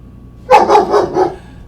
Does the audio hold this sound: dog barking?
yes